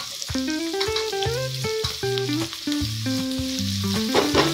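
Sliced tomatoes fry in a pan with a steady, close sizzle, while tonal pitched music plays loudly over it throughout.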